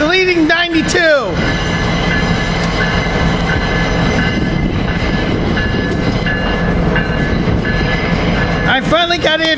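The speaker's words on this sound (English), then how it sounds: "I finally got Amtrak ACS-64 654, leading train 92 from Miami to New York." An Amtrak ACS-64 electric locomotive leads a long-distance passenger train past, a loud steady rumble of wheels and rail noise with clicking joints and a high hum; a voice talks over the start and end of the pass.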